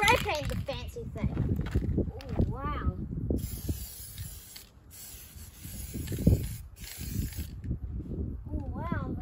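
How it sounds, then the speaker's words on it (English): Short hissing bursts of spray paint hit part of a Bissell steam mop, several separate blasts between stretches of nearby talking. "spray paint the fancy thing."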